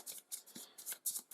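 Playing cards from a Halls of Hegra board game deck being shuffled by hand, a quick series of five or six crisp riffling bursts, close and soft, with no voices.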